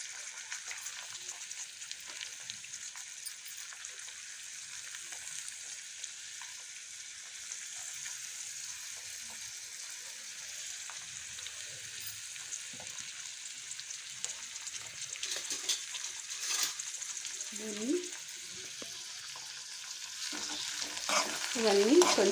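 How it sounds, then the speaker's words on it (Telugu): Onion and raw mango pieces frying together for a chutney, with a faint, even sizzle and occasional soft stirring scrapes that grow a little louder toward the end. "ఇవన్నీ కొంచెం మగ్గాలండి, మగ్గే వరకు అలా కొంచెం అప్పుడప్పుడు కలుపుకోవాలి."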